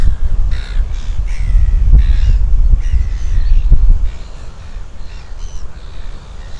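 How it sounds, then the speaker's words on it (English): Crows caw repeatedly at a waterside spot with boats under a building thunderstorm, harsh calls sounding at a moderate distance over steady low wind rumble. "I've got the birds around me"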